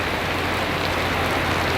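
Heavy rain pours down steadily during a Florida thunderstorm, a dense, loud, even hiss of drops hitting surfaces with no pauses and no voices.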